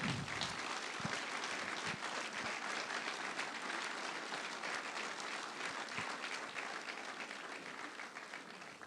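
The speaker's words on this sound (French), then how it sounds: "vous pouvez l'applaudir" Sustained applause from a ceremony audience, steady and dense clapping filling the room for several seconds, with no voices standing out.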